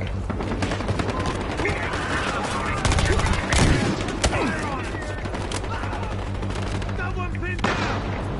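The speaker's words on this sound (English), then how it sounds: "Taking heavy fire!" Heavy gunfire in the Battlefield Hardline multiplayer game: loud, dense bursts of automatic shots crackle almost without pause, with a heavier cluster of blasts near the middle and voices mixed into the chaos.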